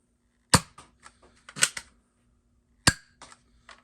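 A Nerf Elite 2.0 Prospector Wild Edition blaster fires foam darts, giving sharp, close snapping pops, with mechanical clicks and rattles between the shots.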